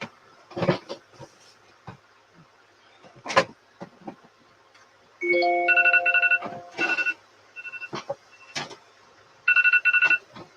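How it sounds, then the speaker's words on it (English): A phone alarm rings in repeated bursts of steady electronic tones, loud and close, with softer rustling and handling sounds in between while someone crafts a yarn wreath. "I hear you, alarm."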